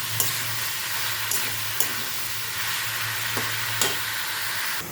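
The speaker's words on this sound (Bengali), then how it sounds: "এবার গ্যাসের ফ্লেমটা লো টু মিডিয়াম করে চাল কুমড়োটা সেদ্ধ হওয়া পর্যন্ত রান্না করে নেব" Ash gourd cooks in a pan over a low-medium gas flame for a fish-head ghonto, a steady close sizzle with a low hum underneath and a few sharp spatula knocks against the pan.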